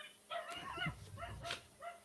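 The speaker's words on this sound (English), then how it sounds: "Hello, dog." A dog gives a few yips and whimpering barks indoors at a house, moderately near, in short bursts with brief pauses between them.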